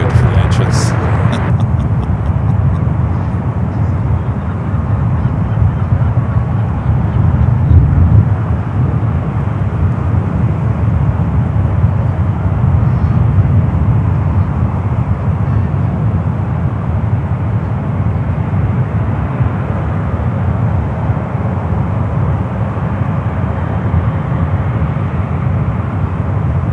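A British Airways airliner begins taxiing at San Francisco airport, its engines giving a steady, loud low rumble that holds for the whole stretch, with a brief sharper burst at the very start and wind-like roar throughout.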